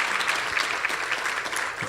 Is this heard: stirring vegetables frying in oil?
no